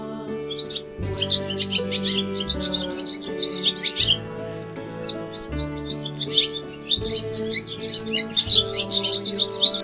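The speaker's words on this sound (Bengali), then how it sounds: "ঘুঘু পাখি ডাকছে গাছে।" A dove calling from a tree, heard as repeated high chirping bird calls that run almost continuously over a steady, droning musical backing.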